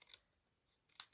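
Scissors snip through card stock during card making, two short crisp cuts near the start and end with a quiet pause between, close and soft.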